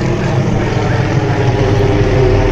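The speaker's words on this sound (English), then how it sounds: "this helicopter is like literally following me now" A helicopter hovers close overhead, a loud, steady engine and rotor roar that fills the scene without changing, with no talk.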